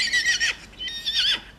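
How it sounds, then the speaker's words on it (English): A carriage horse on Sark gives two loud, high, shaky whinnies separated by a short pause, with faint hoof clops underneath. "horse-drawn carriages rattle around with a new purpose"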